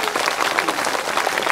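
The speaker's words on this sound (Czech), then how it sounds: "zatleskejte ji" A brief burst of audience applause at a Bajaja puppet theatre performance, dense overlapping clapping held at a steady level with no speech over it.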